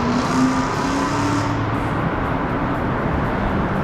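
2018 Dodge Hellcat engine revving loudly inside a tunnel, a dense, continuous roar with a rising tone early that settles into a steady, reverberant drone throughout.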